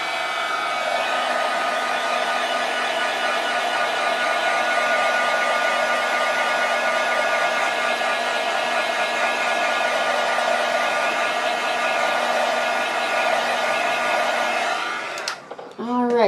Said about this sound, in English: I'm just going to use my heat tool to quick dry it.